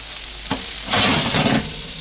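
A brief knock, then a rough rustling clatter of chestnuts tumbling onto a baking tray for about half a second, close and fairly loud.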